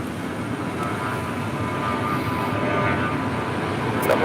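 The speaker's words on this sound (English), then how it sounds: "Also have a FedEx MD-11 pushing back." A FedEx MD-11 pushes back at LAX, giving a steady broadband jet engine roar, loud and continuous, with no talk over it.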